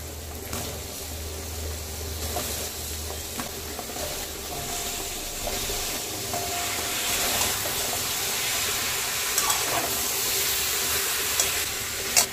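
Vegetables for bhoger labra tossed into well-fried spiced oil in a pan, giving a steady broadband sizzle and hiss with faint clinks of stirring throughout, no talking.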